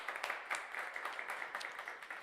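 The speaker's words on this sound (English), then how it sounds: "how about one more round of applause for Dean Johanesen" Audience applause fills the room at a live bluegrass radio show broadcast on WDVX's Blue Plate Special, a steady wash of clapping that carries on throughout without voices standing out above it.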